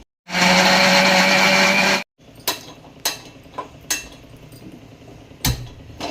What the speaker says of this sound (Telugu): ఇప్పుడు ఇది మిక్సీ పట్టేసుకుందాం